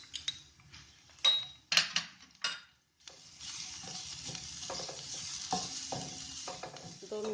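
Green chillies fry with garlic-ginger paste in a pan, opening with a few sharp spoon taps against the metal, then a steady, close sizzle with soft stirring scrapes.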